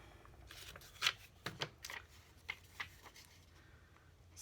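Scissors snip through a stamped paper sticky note in a series of faint, close, irregular crisp cuts against quiet room hiss.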